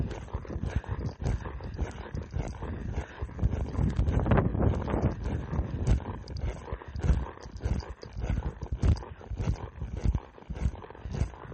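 Horse hooves thud steadily while a horse is ridden in a hackamore, circling in an arena; dense, continuous rhythmic beats close by with no talking.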